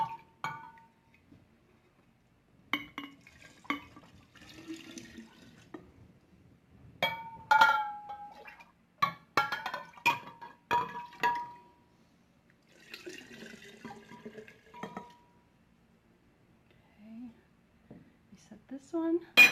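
Glass bottles for kombucha second fermentation clink and knock faintly while being handled near a sink, scattered light taps and small clatters mixed with occasional trickling water, with a person talking at times.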